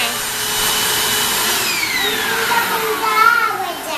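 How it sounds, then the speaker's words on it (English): A vacuum cleaner runs over a couch with a steady, close whining drone whose pitch slides up and down as the nozzle moves across the cushions. "Are you done vacuuming the couch?"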